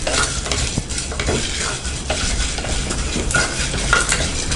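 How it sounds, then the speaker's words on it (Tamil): Red chillies, garlic and curry leaves fry in a clay pot, a loud dense sizzle with steady stirring scrapes and light utensil clinks running throughout, close and without voices. "கொஞ்சமாக கருவேப்பிலையும் ஆட் பண்ணிக்கலாம்."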